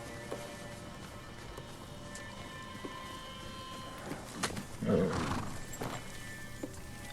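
Horse in Ghost of Tsushima, a brief whinny and snort near the middle over steady outdoor game ambience, with faint hoof sounds around it.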